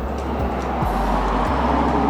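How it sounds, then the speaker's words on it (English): Steady road traffic on a town's main road, a continuous low rumble of passing cars and other vehicles close by, with no voices. "so I apologize about the road noise"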